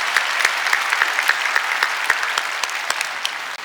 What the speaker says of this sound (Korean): 우리 모든 찬양과 감사를 또 영광을 우리 하나님께 우리 감사의 박수로